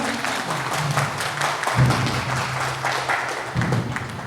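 An audience at an Alphawin International seminar in Jharkhand claps steadily, a dense patter of many hands filling the room while a low hum runs beneath it.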